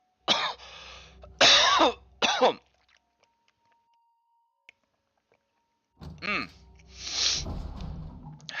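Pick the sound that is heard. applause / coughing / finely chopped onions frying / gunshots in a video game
coughing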